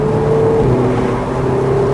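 Lotus race car engine pulling hard on a circuit, a loud steady drone with rising tone heard from inside the car during a track day battle with a Ferrari and a GTR.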